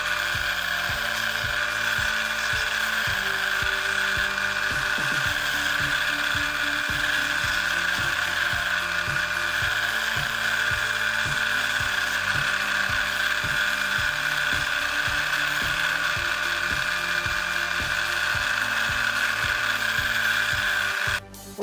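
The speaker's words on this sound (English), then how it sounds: "I'm going to sand this edge and this edge and that edge." Edges of a leather wallet being sanded with a power tool, a steady loud mechanical whir and rasp with a rhythmic ratcheting pulse running throughout, cutting off abruptly at the very end.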